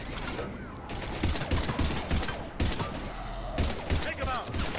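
Gunfire in the video game Mass Effect, with repeated bursts of sharp shots and a mechanical clatter that come in clusters, loud and close, over faint game voices.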